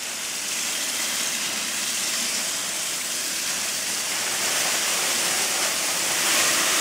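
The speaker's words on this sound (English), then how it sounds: "So let's put in the bag and of course the grains." Grains are poured into a brewing bag in water for home-brewed beer, making a continuous loud hissing, rushing pour that builds slightly toward the end, with no voices.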